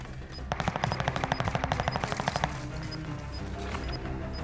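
Rapid automatic gunfire from a video game, including Bren and Cooper carbine weapons, rattles in a fast loud burst for about two seconds, then gives way to quieter in-game ambience with faint electronic beeps.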